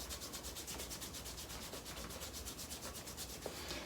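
Hands rubbing briskly over calf skin to warm the tissue during a self-massage, a steady close-up friction sound with a fast back-and-forth rhythm running throughout, no voices.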